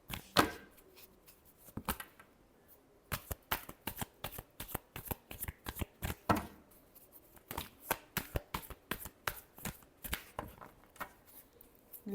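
Tarot cards being shuffled by hand, close and quiet, in repeated quick riffling bursts separated by short pauses over about twelve seconds, with no talk.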